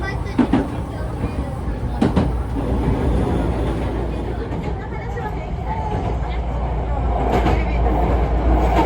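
Hankyu train running on its line near Tenjinbashisuji 6-chome, a steady low rumble with rail noise throughout, a few brief rattles and clunks, while an onboard announcement voice speaks over it.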